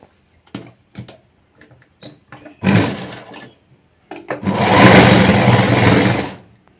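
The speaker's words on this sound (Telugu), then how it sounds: "ఇలా వర్క్ పక్క నుంచే స్టిచ్ వేసుకుందాం" A sewing machine stitches a prince-cut work blouse neck at close range: a few short, scattered bursts and clicks, then one sustained loud run of about two seconds before it stops.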